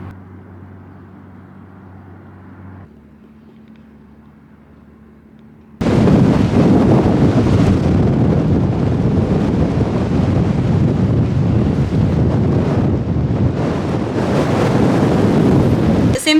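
Strong Bora wind gusting loudly over a sailboat anchored off Croatia, a sudden surge after a quieter low hum, then sustained roaring buffeting against the microphone with no talk.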